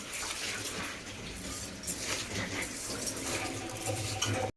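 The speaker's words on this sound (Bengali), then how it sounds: "এরপরে এটাকে ভালো করে মাখিয়ে আমি মোটামুটি এক ঘন্টার মতো মাইনেট হতে দেব" Marinade for egg curry being mixed in a bowl with constant clattering, scraping and stirring sounds close by. The busy kitchen noise runs without a break for several seconds before stopping abruptly.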